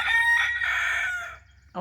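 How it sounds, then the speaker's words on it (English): A rooster crows loudly and close by, one long drawn-out call, followed by a brief start of another cluck. "we got Ragnar over here, the rooster"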